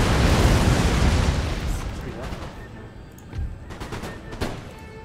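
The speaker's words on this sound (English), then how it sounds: "Close range rocket fire." Close-range rocket fire in Empire Total War: a dense, loud roar of launches and explosions that fades into scattered cracks and distant bangs.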